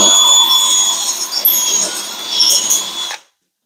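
A power drill bores a hole into a round metal pipe, a loud, close, steady high whine with grinding that holds for about three seconds, then stops abruptly.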